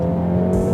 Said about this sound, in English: Ooh, and it just downshifts so quickly